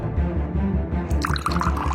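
Sulfuric acid is poured into a container in a steady, close, gurgling liquid stream with dripping, loud and with no voices.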